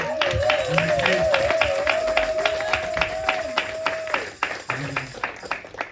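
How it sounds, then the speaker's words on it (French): A church congregation at a Sunday service claps in a quick, even rhythm, loud and close, while a single voice holds a long wavering note over the beat before the clapping thins out near the end. "Est-ce qu'on peut applaudir encore pour Jésus-Christ?"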